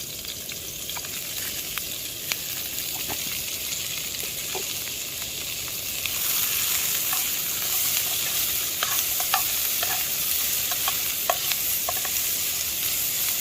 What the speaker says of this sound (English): Then we're just going to fry all the onions and the garlic.